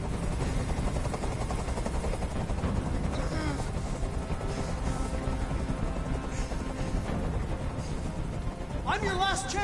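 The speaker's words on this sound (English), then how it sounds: "Tell that helicopter to get out of here." Helicopter hovering overhead in a hostage standoff scene from the video game Detroit: Become Human, a steady loud rotor drone running throughout beneath dramatic music, with voices speaking over it.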